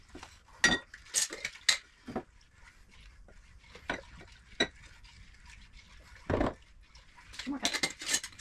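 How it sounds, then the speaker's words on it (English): A utensil stirs sugar into apple jelly in a pot, with sharp scraping clinks against the metal at irregular intervals, quiet between strokes, and soft background clatter. "So I'm going to start slowly adding the sugar and just stir and stir and stir."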